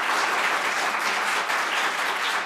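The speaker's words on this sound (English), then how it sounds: "we're not supposed to advocate clapping" Audience applause in a Senate Finance Committee hearing room, a sustained, even roar of many people clapping, fairly loud and without talk over it.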